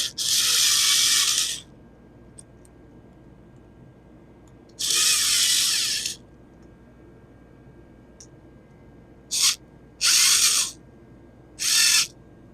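A power driver tightens a hose clamp on a car's oil catch can for an LT engine, heard as five separate high whirring bursts, two longer and three shorter, each separated by quiet pauses.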